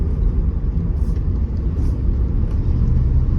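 A manual car's engine hums and rumbles steadily from inside the cabin as it accelerates along a city road. The drone is continuous and moderately loud, and no one speaks.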